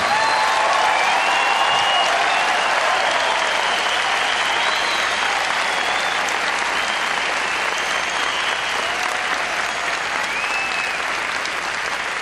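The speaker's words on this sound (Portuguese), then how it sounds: "Eu gostaria que você desse um aplauso ao Senhor pela vida do pastor Fadi." Loud, sustained applause from a church congregation during a service, a thick continuous roar of many people clapping, with faint cheers mixed in and no let-up.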